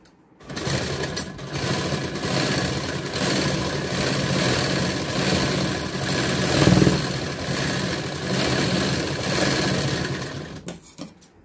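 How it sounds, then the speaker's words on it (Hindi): An electric sewing machine stitching a katori blouse, running in a continuous close mechanical whir for several seconds before stopping. "इस तरह से बिल्कुल पास वाली हमको सिलाई लगानी है।"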